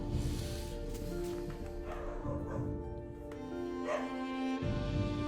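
Dogs in a home bark and whine in short yips and whimpers, close by, over a steady background of game music.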